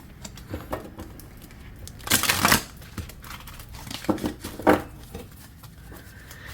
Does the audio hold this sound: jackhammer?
no